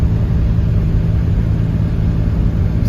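A Ram 3500 SRW pickup's engine drones steadily in 4th gear while towing a 14k fifth-wheel trailer up the Grapevine in 102°F heat, a loud, continuous low rumble heard from inside the cab.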